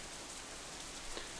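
Steady rain falling in the visual novel game Katawa Shoujo, a dense, even hiss of drops with no breaks.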